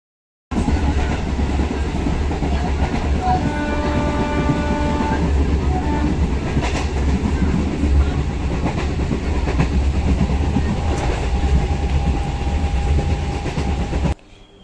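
A passenger train running on rails on a rainy day, a loud steady rumble with rhythmic clatter and brief tonal squeals, heard from onboard, cutting off abruptly near the end.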